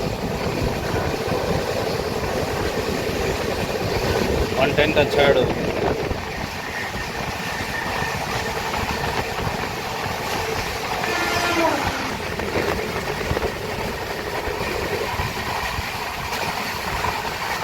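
A Pinakini Express with LHB coaches runs at speed, its steady rumble and rushing rail noise heard from on board, with a person speaking briefly over it.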